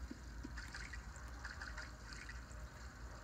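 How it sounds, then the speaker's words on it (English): Bubbling hot spring water in Paper Mario: Sticker Star, a faint, steady trickle with soft bubbling pops over low ambient game background. "Bubbling water's natural hot spring."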